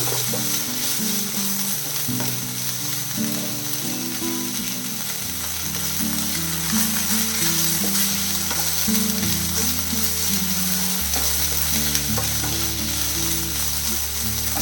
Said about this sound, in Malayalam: അപ്പം നമ്മുടെ സവാള നല്ല രീതിയിൽ ഒന്ന് വഴഞ്ഞിരിക്കണം